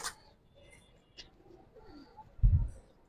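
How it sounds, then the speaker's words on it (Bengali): Restless Giribaz pigeons give faint, low coos close by, with a sharp flutter or scuffle at the start and a heavy thump of handling near the end. "অনেক ছটপটা কবুতর ভাই"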